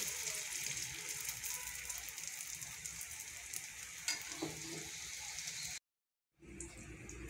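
Egg paratha frying in a pan, a steady close sizzle with small crackles and pops over several seconds, briefly cutting out before resuming.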